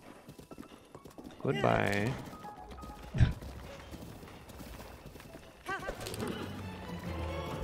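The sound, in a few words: horse hooves galloping in video game Breath of the Wild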